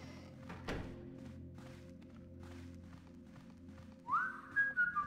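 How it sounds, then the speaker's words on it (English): A guard in the stealth game Thief 2 whistles a short, rising tune near the end, preceded by a dull thud and a low ambient hum. "How are you whistling with a pipe in your mouth?"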